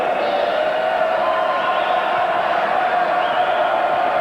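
A college basketball crowd roars at Rutgers during a 1989 Atlantic 10 Tournament game against Temple. The arena noise is a dense, steady cheer that holds at an even level the whole time, with no clear breaks.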